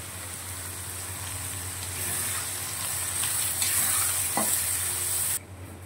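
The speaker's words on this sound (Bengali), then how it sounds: "পেঁয়াজটা একটু হালকা গোল্ডেন ব্রাউন করে ভেজে তারপর বাকি রান্নাটা করছি।" Onions fry toward golden brown in a pan for chicken kosha, giving off a steady, close sizzle of hot oil that brightens midway before cutting off abruptly, with no voices.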